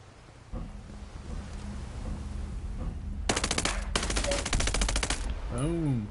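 Unsuppressed automatic gunfire in Ghost Recon Breakpoint, two loud rapid bursts of shots at close range over rain and ambient noise, followed by a brief wavering tone.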